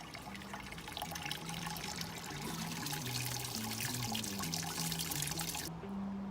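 Sparge water trickles and drains through a grain mash during backyard homebrewing of a smoked habanero and lime pale ale, a steady close liquid pouring and dribbling sound that cuts off near the end.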